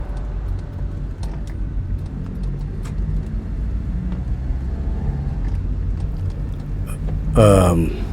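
A car drives along with a steady low road rumble and engine drone, close and continuous, and a voice breaks in near the end.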